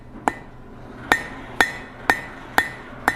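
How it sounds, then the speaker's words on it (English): Hot steel drift on an anvil's edge takes a series of hammer blows, six sharp ringing strikes at a steady, slightly uneven rhythm, each with a short metallic ring. "So I'm putting it on the diamond, hammering along that, softening up my blows as I get to the tip where it's thinner."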